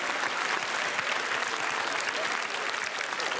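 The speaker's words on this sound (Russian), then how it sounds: "Никаких шуток, просто аплодисменты" Steady, moderately distant applause fills a Russian comedy club hall, a dense, uniform clatter of many hands with no speech over it.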